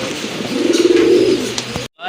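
Fancy pigeons in a market stall, including a female Andalusian, giving a low rolling coo that swells and fades over about a second, close and clear before a brief cut-off.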